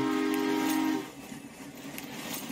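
A train in the Roblox Jailbreak video game sounds a steady tonal whistle or horn for about a second before it cuts off, leaving a quieter rumble of the moving train.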